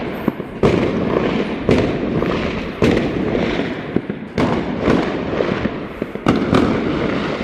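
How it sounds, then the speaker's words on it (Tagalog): Fireworks and firecrackers burst continuously at a New Year's Eve celebration in the Czech Republic, with sharp loud bangs every second or so over a dense crackling roar that never lets up. "Nag-umpisa na mga paputok"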